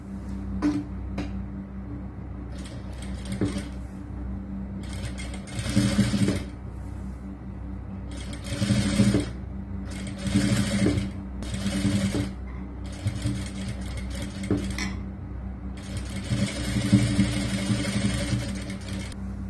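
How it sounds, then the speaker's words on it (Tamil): A sewing machine stitches a churidar neckline in bursts, its close mechanical whirring starting and stopping several times with brief pauses and small clicks between runs. "அடுத்தது இந்த கழுத்துல 1/4 இன்ச் அளவுக்கு ஒரு பதிவு தையல் போடலாம்"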